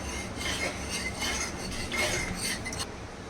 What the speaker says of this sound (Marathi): मीठ थोडंच टाकणार आहे त्याला हलवून घेऊया आपण